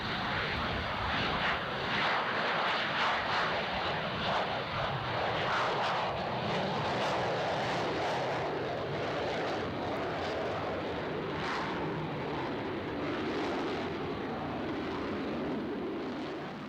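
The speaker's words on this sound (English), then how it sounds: "The large surface area, combined with a tremendous amount of thrust produced by those GE engines, is especially effective in maneuvering aircraft at slow speed." A Navy jet with GE engines maneuvers at slow speed over an air show at Naval Air Station Chase Field, Beeville, Texas, its engines producing a loud, sustained roaring rumble that holds steady throughout.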